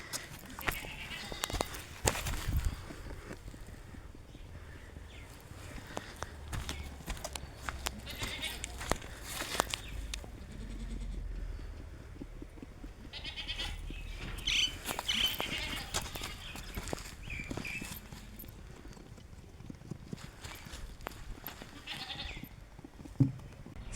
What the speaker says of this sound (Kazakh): Осы Альпи мен Ноби шатысы ешкі сатылады.